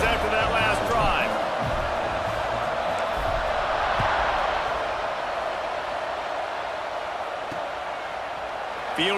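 A stadium crowd in an American football video game roars in a steady, dense wash through a kickoff, with a commentator talking over it throughout.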